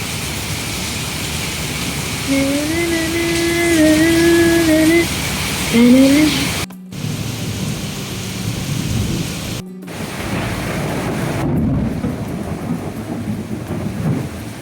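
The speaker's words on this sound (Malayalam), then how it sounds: "ഇതുപോലൊരു മഴ ഈ അടുത്ത സമയത്തൊന്നും ഉണ്ടായിട്ടില്ല" Heavy rain pours down in a loud, steady roar, broken briefly by a couple of sharp cuts, with low rumbling underneath.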